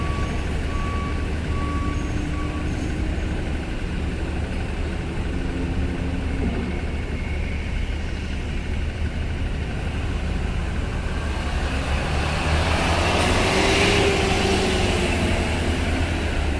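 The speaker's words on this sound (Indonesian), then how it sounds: "kendaraan yang turun dari upper deck" Vehicles roll down from the upper deck of a ferry at Bakauheni port at night, a steady rumble of engines and traffic noise with intermittent reversing beeps, a truck growling louder near the end.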